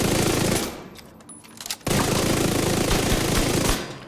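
Fast automatic weapon fire in The Division 2, a loud continuous stream of rapid shots that breaks off briefly for a quieter reload-like pause before resuming at full intensity.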